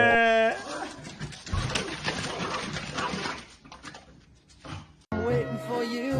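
A dog whimpers and yips in short, strained bursts, with rustling and a person talking nearby; the sounds fade, then noise picks up again.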